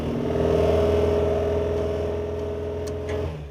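A Mk2 Ford Escort engine runs steadily close by with an even, throbbing hum and a faint metallic clutch rattle, easing off slightly at the end.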